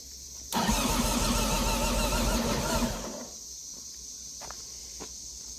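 A 1953 Indian Chief Eighty motorcycle engine, silent for 70 years, catches and fires up loudly for a few seconds of rough running, then drops back to a lower idle with faint clicks afterward.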